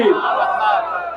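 A large crowd roars a loud, sustained chanted response to the slogan 'Naara-e-Takbir' at a religious gathering, with one steady block of voices lasting about a second.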